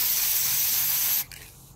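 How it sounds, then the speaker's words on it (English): A steady, loud hiss of an aerosol spray paint can, held for about a second, then cut off abruptly, leaving faint room noise. "I spray paint it."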